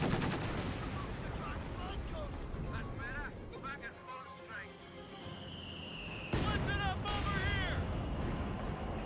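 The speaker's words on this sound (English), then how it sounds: "MG42 firing away, suppresses down the Grenadier." Rapid machine-gun bursts from an MG42 in Company of Heroes 2 battle, dense and continuous under ongoing commentary talk, with layered game effects and a louder burst of fire near the end.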